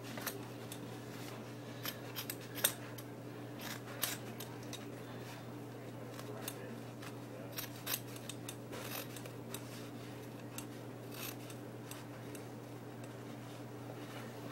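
Scissors snip through fabric being cut into a long piece for a bow tie, producing scattered, quiet clicks and short cuts over a steady low hum, with no one talking.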